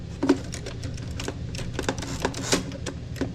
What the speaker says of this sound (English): Smith Corona typewriter